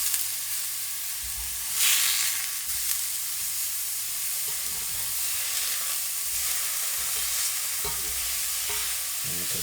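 Burger patties cooking on a hot surface give off a steady, bright sizzle with a brief louder swell near the start. It sounds close and continuous, and no one talks over it.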